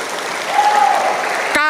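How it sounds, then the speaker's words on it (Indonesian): Crowd claps steadily through a short stretch of an Indonesian speech about Pancasila and Nahdlatul Ulama, a loud, dense patter that ends as a voice begins. "Tepuk tangan."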